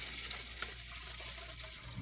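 Water pours into a container for a lye soap mixture, a quiet continuous splashing gurgle close by, ending with a brief clunk.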